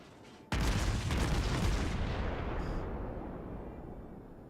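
A single massive naval gun salvo from a warship in a naval battle video game, Mogami versus North Carolina, a sudden loud blast followed by a long rumbling roll that slowly fades over several seconds.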